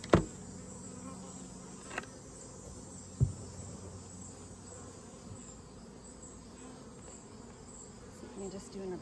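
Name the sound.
honey bees buzzing in a Layens horizontal bee hive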